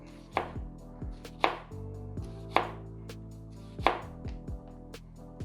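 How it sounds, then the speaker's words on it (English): A knife chops down through shallots on a cutting board in about five sharp, evenly spaced strokes, each landing with a crisp thud against a low background hum. "So we're just gonna go ahead and chop straight down it."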